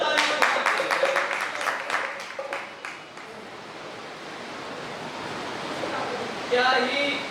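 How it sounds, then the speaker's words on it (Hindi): A sermon audience breaks into loud, dense applause that crackles strongly for a few seconds, then fades into a softer lingering wash of clapping before a voice begins speaking. "वेरी गुड, जोरदार ताली बजा सकते हैं।"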